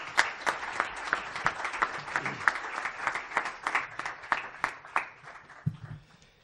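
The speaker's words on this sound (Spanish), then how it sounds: "Un aplauso para Jesús Benítez." Audience at a book presentation for author Jesús Benítez's novel claps steadily, a dense burst of applause with sharp individual claps that tapers off near the end.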